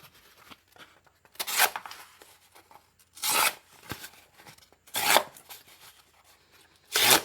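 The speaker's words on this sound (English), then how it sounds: "Cut a piece of cardboard" A folding knife slicing through a piece of cardboard, four distinct rasping, tearing strokes spaced a couple of seconds apart, close and fairly quiet, with soft handling noise between them.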